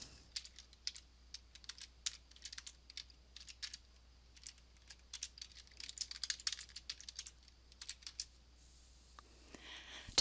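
Fingers typing on a computer keyboard to log in, a faint, close run of quick irregular key clicks in bursts, with a louder clack at the end and no speech.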